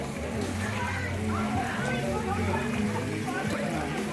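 Water sloshes and splashes steadily in a pool at a family birthday gathering, under constant chatter and voices of adults and children.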